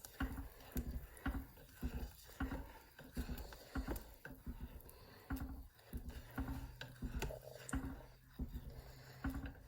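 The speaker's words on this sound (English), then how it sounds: "Stirring everything together" A spoon stirs melted vegan Alfredo sauce, producing soft, repeated wet squishing and patting strokes in an irregular rhythm at close range, fairly quiet overall.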